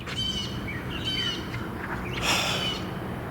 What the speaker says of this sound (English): listen to that friggin' bird.